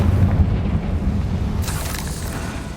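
Confringo blasting spell exploding in Hogwarts Legacy, a deep rumbling boom that rolls on, followed by a bright crackling burst of debris near the end.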